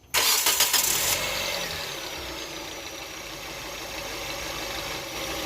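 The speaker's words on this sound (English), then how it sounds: "Let's go start the engine." A car engine cranks and catches with a loud roar after alternator, water pump and power steering work, then settles into a steady, close idle.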